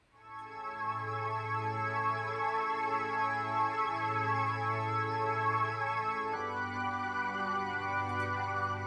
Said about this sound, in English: pad that comes in partway through